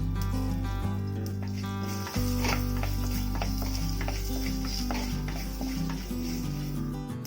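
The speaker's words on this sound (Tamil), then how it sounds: "கடுகு ஜீரகம்லாம் நல்லா பொரிஞ்சிருச்சு" Mustard and cumin seeds crackle and pop in hot oil with scattered sharp snaps, under a steady background hum and some low rumbling.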